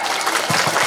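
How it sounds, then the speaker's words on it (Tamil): Audience clapping at a temple festival celebration, a brief dense burst of many hands applauding together, fairly close and loud, with no speech over it. "எனக்கு கொஞ்சம் ஜோரா கைதட்டுங்களேன்"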